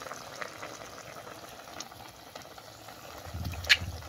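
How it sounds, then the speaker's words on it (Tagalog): A pot of water boils steadily on a home stove, giving a soft, continuous bubbling hiss, with a low rumble and a faint clink near the end. "Takuban. Nagbukaw na."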